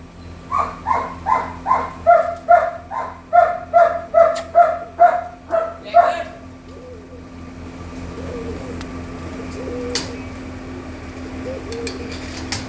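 A dog barks in a quick run of about a dozen sharp barks over the first six seconds, reacting to newly arrived visitors, then falls quiet against a steady low hum with faint distant sounds.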